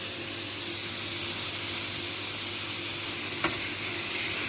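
Meat sizzles steadily in a hot pan for stuffed vegetables mahshi, a constant close hiss with one brief clink near the end, no talking heard.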